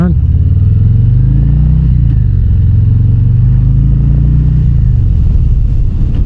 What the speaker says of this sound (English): the exhaust has a nice rumble to it